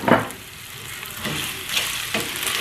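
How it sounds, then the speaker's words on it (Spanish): Rice with carrots and potatoes sizzles in a hot pan while being stirred, with scraping strokes at steady intervals over a constant frying hiss; no talking. "Y le voy a seguir moviendo."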